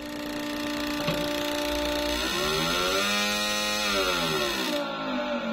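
A Vespa scooter engine with an aftermarket CDI ignition revs up and holds high RPM, its buzzing tone rising, leveling off, then dropping again; loud, close and continuous, with no talk.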